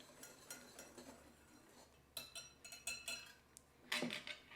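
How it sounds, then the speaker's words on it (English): A whisk runs through dry ingredients in a bowl (flour, baking powder, nutmeg, ground cloves) for persimmon cookie batter, with soft scraping, light metallic clinks and bursts of brisk rattling, close and fairly quiet, no talking. "we'll come in here, give this a good whisk."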